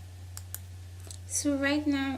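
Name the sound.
mouse clicks in the Evernote app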